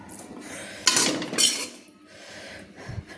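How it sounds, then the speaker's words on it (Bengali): A spoon scrapes and clinks against a pan and mixer jar while fried onion and tomato are scooped for chicken changezi, with two sharp metallic clatters over quiet kitchen noise. "তো চামচ দিয়ে আমি তুলে নিচ্ছি"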